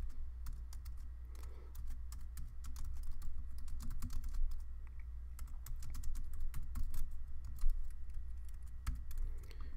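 Fingers type HTML code on a computer keyboard in a quiet room, a continuous patter of soft, close key clicks with irregular bursts and brief pauses, over a low steady hum.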